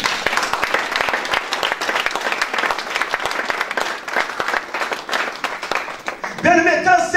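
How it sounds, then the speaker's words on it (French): A church congregation claps steadily and loudly through a French-language worship service, a dense, continuous ovation with voices mixed in, ending with a brief tonal sung or spoken sound. "Acclamons le roi des rois."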